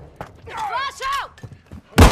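A flashbang grenade goes off in Call of Duty: Modern Warfare 2, one loud, sharp broadband burst at the very end after brief radio-style voice chatter.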